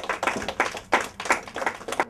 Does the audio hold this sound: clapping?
yes